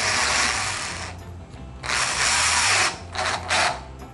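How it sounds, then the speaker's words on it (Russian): A cordless screwdriver drives a self-tapping screw at low speed into a drywall column frame, a close whirring drill motor in a few sustained bursts with brief ratcheting pauses, loud and alone. "Придерживаем рукой с обратной стороны и аккуратно на малых оборотах закручиваем саморез."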